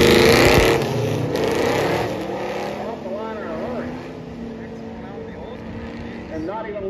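Drag race cars, one with Chevy power and one with Oldsmobile power, run down the track at a drag strip event, a loud engine roar fading to a distant drone as a voice talks over it.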